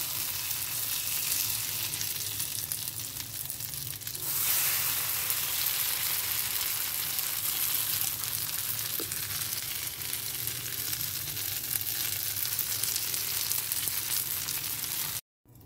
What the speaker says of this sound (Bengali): আমি এই দুটোই ভেজে নেব।